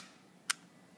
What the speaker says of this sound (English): Just took a photograph.